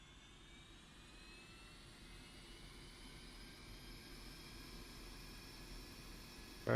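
Jet engines of a Su-25T attack aircraft running in the flight simulator DCS World, a steady whining roar with high tones rising slowly and growing gradually louder, with no voices.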